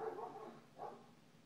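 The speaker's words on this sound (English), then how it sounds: "See, there's the dog now." Two short indoor barks or yips from a dog, the first a quick double burst and the second a single bark about a second later, moderately close with no talking.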